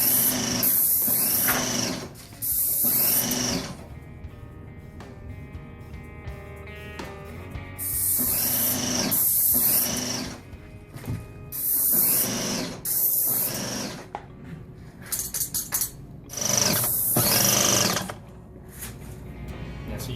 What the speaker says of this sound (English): right now it's on high pressure setting for spray.